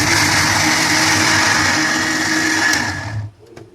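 A mixer grinder whirs loudly and steadily, grinding cashews, raisins, tomato, ginger, garlic, onion and chilli into masala, then cuts off abruptly near the end.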